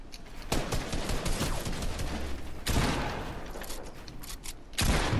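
Rapid bursts of gunfire from the video game Fortnite in Creative mode, dense crackling volleys with sudden loud onsets around one and three seconds, continuous and close with no voices over it.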